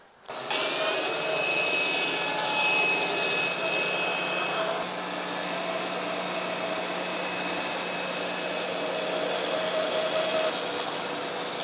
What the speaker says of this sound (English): I don't want to make my bandsaw work any harder than I have to, so I'm going to cut off the excess